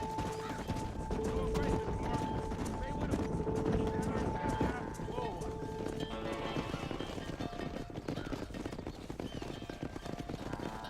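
Horse hooves clip-clop steadily through a cattle drive in Red Dead Redemption, a continuous rhythmic trotting that runs under talking voices throughout.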